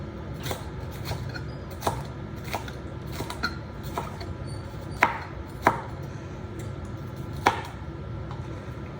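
A knife dices vegetables on a cutting board in a steady run of close, crisp chops, a few landing noticeably harder than the rest.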